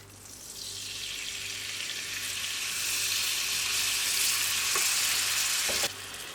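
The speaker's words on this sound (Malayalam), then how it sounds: "ഇനി ഇതിലേക്ക് നമുക്ക് ബീഫിൻ്റെ ചാറ് ഒഴിച്ചു കൊടുക്കാം." Beef broth poured into a hot curry pan, the sizzle swelling into a loud, bright hiss that builds and then drops sharply near the end.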